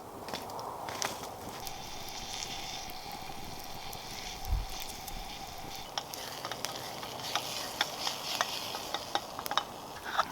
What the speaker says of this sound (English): we'll get the steak in. We'll fry that quickly